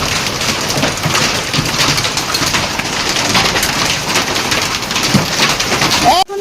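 Heavy rain pours steadily in a dense, loud hiss across the whole stretch, with hail mentioned falling too, before cutting off abruptly near the end.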